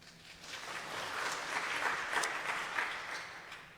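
A church congregation claps during a sermon to cast a vote, a soft, fairly distant patter of many hands that swells slightly and holds for a few seconds.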